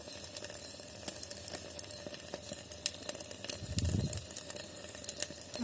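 Egg bhurji sizzles inside an electric kettle, a steady close hiss and crackle with a brief louder low rumble partway through, no talking.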